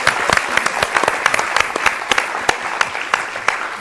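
An audience claps together at a live televised debate, a dense, steady burst of clapping that holds close and loud for the whole stretch with no voices over it.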